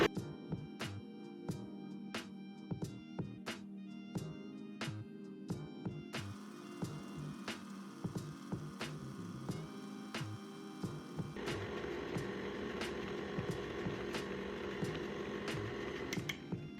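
Peanut butter cookie dough with an egg is mixed in a bowl, producing a steady run of sharp knocking clicks with softer scraping and thudding between them, close and fairly quiet, with no talk.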